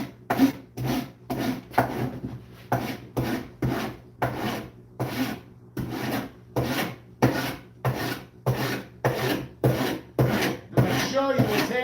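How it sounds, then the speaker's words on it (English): Rough hand sanding of wood, a rhythmic series of about twenty rasping strokes at a steady back-and-forth pace, close and fairly loud with no speech. "This is not fine sanding,"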